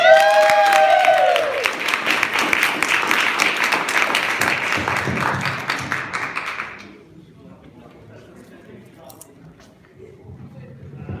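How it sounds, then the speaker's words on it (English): A poetry reading audience at The Paterson Museum applauds loudly with cheering for several seconds, then the clapping fades out abruptly into quiet room noise. "Give her a round of applause."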